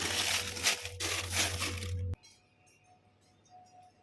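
Ice is crunched and clinked in a bucket used to chill fresh pork, a loud rough grinding for two seconds that stops abruptly, leaving faint rustling.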